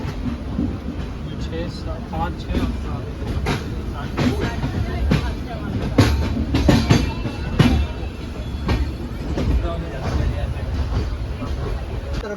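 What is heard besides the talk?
moving passenger train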